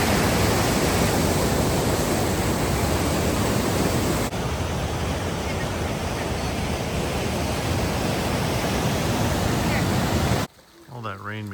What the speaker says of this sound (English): The waterfalls are really running.